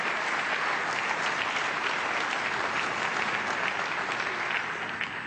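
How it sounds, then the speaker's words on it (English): Heavy, sustained applause from spectators at a neighbouring table during a snooker tournament match, a dense steady wash of clapping that fills the whole stretch without pause. "And the heavy applause you heard there was from the neighbouring table 5, Deshawat Pumjaeng, having got a frame on th"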